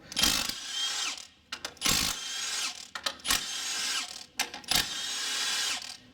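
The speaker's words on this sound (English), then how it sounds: "We're going to take a 16mm, and we got these 4 bolts that we're going to have to remove." A ratchet works loose four 16mm bolts from a car engine's valve cover. It clicks in several bursts with short pauses between them, fairly close and fairly loud, and no one speaks.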